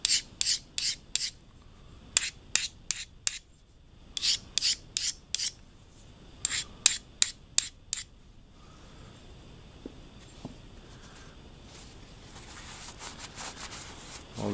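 Sharpening stone rubbed over freshly ground edges of a metal part, giving short rasping strokes in quick bursts with pauses between, close and fairly quiet.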